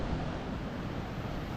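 Big sea waves rolling in along the coast at Dipolog City, a steady, dense roar of surf mixed with wind buffeting, loud and continuous without pause.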